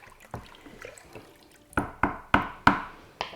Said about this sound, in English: I'm probably going to put about 200 mils of dye in there